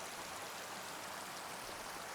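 Flowing waterfall water in the game Farming Simulator 25 makes a continuous, faint, splashy rush, unchanging from start to finish and heard alone.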